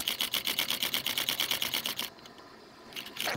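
A hand-cranked leather stitching machine sews a leather sheath with fast, even mechanical clacks. The clacks stop briefly, then start again, up close and alone.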